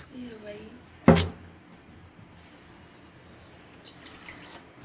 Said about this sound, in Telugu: లైట్గా నీళ్ళు అయితే వేస్తున్నాను.